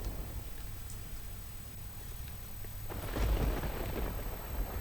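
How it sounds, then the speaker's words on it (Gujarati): Steady rain hiss in a city in Surendranagar district, Gujarat, during winter, with a low rumble swelling near the end, like distant thunder rolling in. "શહેરમાં છવાયો છે વરસાદી માહોલ વરસાદના પગલે રસ્તાઓ પરથી પાણી વહેતા થયા છે"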